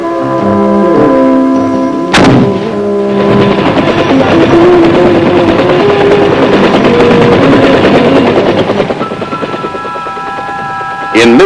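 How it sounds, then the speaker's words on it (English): Military weapons from the Vietnam War are fired, loud and close: a sharp shot followed by a sustained roar of heavy fire, with a tonal drone underneath and another sharp blast at the end. "fire some of the weapons of the real-life heroes in Vietnam"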